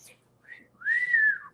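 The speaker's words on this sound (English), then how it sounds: "he'll just be back there doing the bird whoo whoo at me, you know. The wolf whistle" A bird gives a wolf whistle: a short faint chirp, then a long, clear, sliding whistle, heard close and alone without speech.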